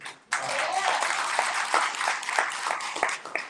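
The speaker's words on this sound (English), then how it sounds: "For everybody, give them a round of applause." A council meeting audience applauds its partners, a sudden onset of many hands clapping that stays dense and fairly loud, with scattered sharper claps standing out near the end.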